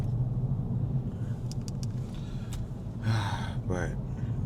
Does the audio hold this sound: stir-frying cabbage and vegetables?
no